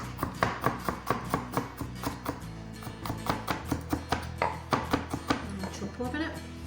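A knife chopping garlic on a board for chicken and chorizo paella, a rapid, regular run of close, crisp knocks that slows into heavier taps toward the end.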